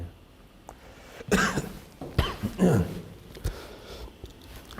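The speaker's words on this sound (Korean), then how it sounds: "기침이 나오는 거 보니까 아마 수업 마치라는가 봅니다" Several harsh coughs in quick bursts from a nearby person during a lecture, with short pauses between them in an otherwise quiet room.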